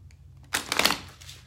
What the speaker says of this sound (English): right now I'm shuffling the Doreen Virtue Romance Angels Oracle card deck